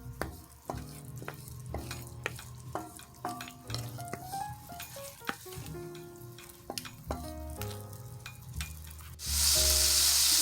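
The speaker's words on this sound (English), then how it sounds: "we're going to saute that until our cherry tomatoes get soft" Cherry tomatoes sauteing in sauce in a pan sizzle steadily while a spoon stirs and clinks against the metal, with a louder burst of sizzling near the end.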